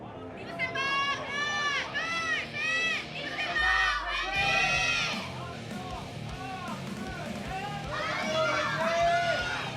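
An esports crowd at an LCK Challengers League match lets out a loud shouted fan cheer, many young voices rising and falling together over a couple of bursts.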